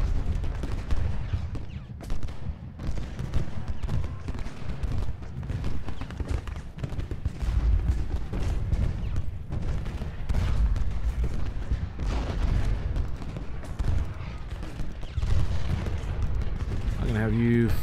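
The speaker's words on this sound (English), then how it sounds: "You are in range for canister shot." Civil War artillery firing canister shot in Ultimate General Gettysburg, heard as a steady rumble of dull booms and crackling musketry under dense, continuous battle noise.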